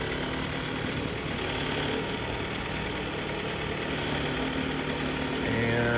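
Car engine at a police auction idles with a low steady rumble, then is put in gear and rolled forward, the tone rising slightly near the end; close and continuous, no talking.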